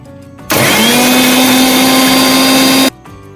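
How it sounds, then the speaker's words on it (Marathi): A kitchen mixer grinds green chillies, garlic, ginger and coriander with water in one loud, steady whirring burst of about two and a half seconds, starting and stopping abruptly, with no talk. "ते पहिल्यांदा आपण आता मिक्सरमध्ये पाण्यानं घालता वाटून घेऊयात"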